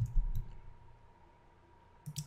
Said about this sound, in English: and control shift enter keys